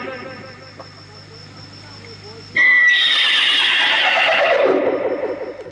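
A loud, close mare whinny bursts out suddenly after a quieter stretch at an evening devotional bhajan gathering, rising then trailing off in a long descending neigh.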